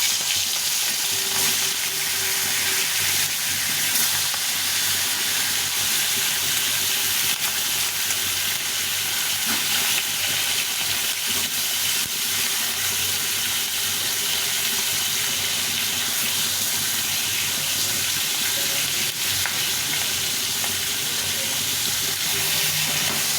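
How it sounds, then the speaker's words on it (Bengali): A fish head fries in hot oil in a kadai for a bottle gourd dish, producing a dense, unbroken sizzle and hiss that stays loud and even throughout. "মাছটা ভেজে নিই"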